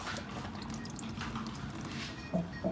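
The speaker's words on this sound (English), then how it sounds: "Be careful, it's going to start dripping a little bit." Motor oil drips from a Honda Odyssey into a drain pan in soft, close, wet patters, with two louder splashy drops near the end.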